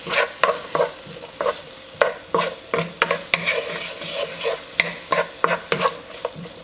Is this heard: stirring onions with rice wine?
yes